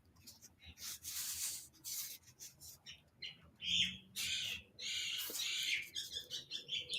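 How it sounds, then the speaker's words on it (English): A bird outside squawks and chatters in irregular bursts, some harsh and scratchy, others short and chirpy, fairly faint, mixed with rubbing and scraping noises close by. "the bird's out there making chatter"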